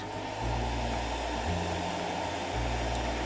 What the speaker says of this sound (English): I'm going to use a hairdryer just to help force dry it